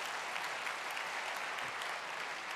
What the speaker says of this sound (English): Please give a warm round of applause to our speaker, Stefan Widmann.